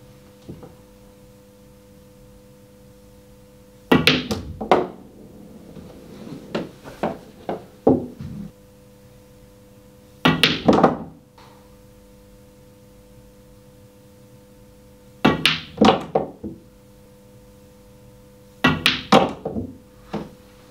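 Pool balls are struck and potted on a table before an IPA Tour match, heard as four separate bursts of sharp clacks and knocks, each a few quick hits close by, with quiet room hum between them and no talking.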